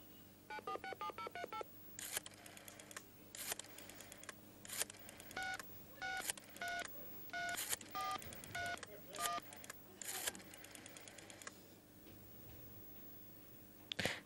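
Rapid sequences of mobile phone keypad DTMF tones, short beeps in quick bursts as numbers are dialed, with pauses between groups, clear and close over a faint background hum.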